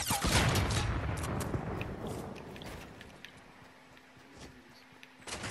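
Sniper and other gunfire in a Fortnite match comes as a burst of rapid cracks and bangs at the start, then more scattered shots over a noisy battle background.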